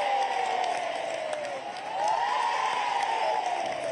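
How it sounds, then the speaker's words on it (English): A large outdoor crowd in Trafalgar Square cheers and applauds England's Lionesses after their Euro 2022 win, a steady loud roar with scattered whoops that holds for the whole stretch. "big cheer, everyone!"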